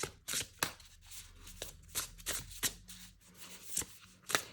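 A Cosy Witch tarot deck shuffled by hand, giving a run of quick, close riffling and tapping bursts at an uneven rhythm, fairly quiet and with no talking.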